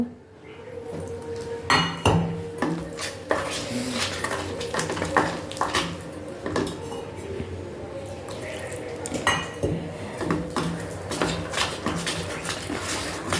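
Gram flour batter whisked with water in a bowl for pakoras, with repeated clinks and scrapes of a utensil against the bowl and some liquid sloshing, under light talk.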